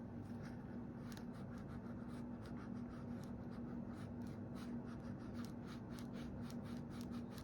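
A folded paper greeting card for Mother's Day, a 3D concertina design, is burnished with a tool in steady back-and-forth rubbing strokes, soft and close over a constant low hum, with no talking.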